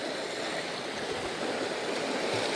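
Steady broadband wash of sea waves rolling onto a beach, continuous and fairly loud with no distinct breaks, heard alone without any voices.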